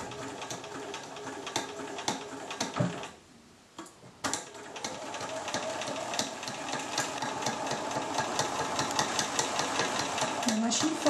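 A sewing machine stitching a fold of fabric for a pleated mask, working through several thicknesses, a fast, steady mechanical ticking and whirring that pauses briefly partway through, with someone speaking over it.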